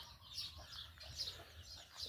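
Chicks in a backyard fruit garden give a few faint, high-pitched peeps at intervals, distant against quiet low background noise.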